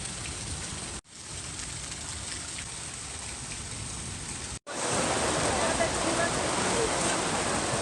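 Heavy rain pours in a steady, dense hiss that fills the scene, broken by two brief dropouts, and grows noticeably louder and fuller over the last few seconds.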